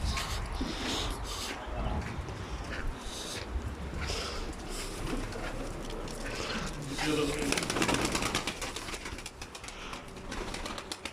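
Tumbler pigeons cooing close by amid flapping and rustling, with people talking over the birds throughout.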